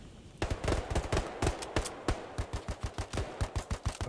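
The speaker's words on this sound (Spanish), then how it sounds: "Oye, empezamos a hacer tiros aquí dentro" Rapid gunfire in the World War II shooter game Hell Let Loose, dense irregular bursts of sharp shots growing into a regular rhythmic stream of single cracks, fairly faint overall with no talk.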